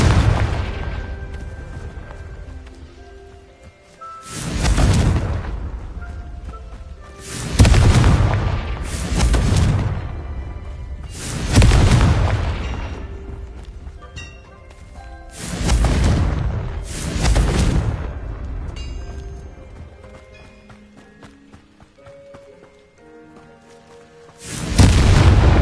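Confringo fire-spell explosions in Hogwarts Legacy, a series of heavy booming blasts, about eight across the span, each a loud close burst with a rumbling tail, separated by quieter game ambience.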